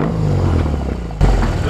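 BMW R18 motorcycle engine revving briefly under throttle, a loud, steady low rumble with a sharper surge near the end.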